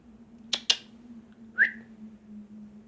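A person whistles to call a cat indoors, two quick sharp chirps followed by a short rising whistle, clear and close against a quiet background hum.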